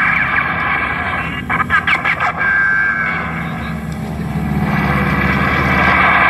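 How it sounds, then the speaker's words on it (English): Radial engines of Japanese Zero fighter aircraft roar steadily overhead at an air base, a loud continuous drone that swells toward the end, with no talk. "Listen to the sound of the engines, the roar of those radial engines."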